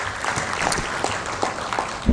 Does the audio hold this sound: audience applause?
yes